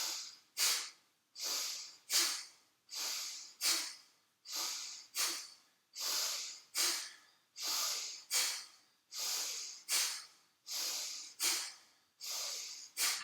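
Forceful yoga breathing exhalations repeat in a steady rhythm, about a dozen sharp nasal bursts each trailing into a hissing breath, close and clear with no talking over them.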